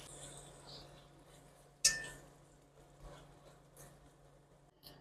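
Beef pieces for a Swedish kalops stew are stirred in a searing pot: one sharp, loud metal clink rings out, followed by faint scraping and a few quieter knocks against a low background.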